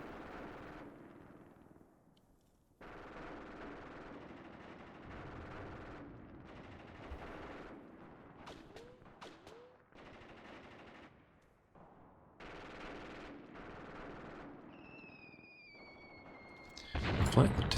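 Faint, steady rattling bursts of machine-gun fire from a distant battle in the war game Graviteam Tactics: Predators in the Mist 2, with stretches of continuous firing, short gaps, thin whistling tones near the end and a voice speaking now and then.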